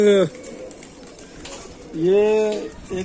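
Pigeons, including Golden, Dub-Wale, Teddy and Kamagar breeds, give two drawn-out cooing calls, close and loud, with a quieter stretch between them.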